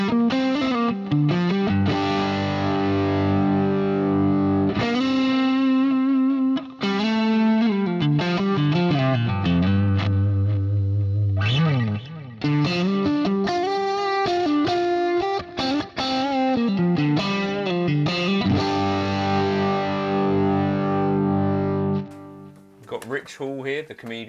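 Distorted electric guitar with a crunchy, Plexi amp-modeled tone on a Fractal unit plays riffs and sustained chords, loud and up close, with a brief pause partway through.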